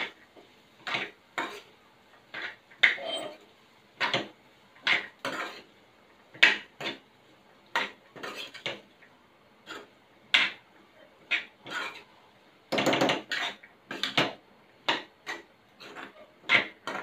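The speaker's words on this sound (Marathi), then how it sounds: "आता हे चांगलं एकजीव करून घेऊया." A spoon stirs peas and potatoes for matar batata bhaji in a pan, a close, brisk series of metallic clinks and scrapes in a steady rhythm, with a denser burst of clatter near the end.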